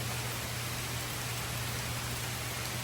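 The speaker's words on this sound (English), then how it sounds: "Still raining." Steady rain falls in a continuous, dense hiss with a low rumbling undertone, close and even throughout, with no voices.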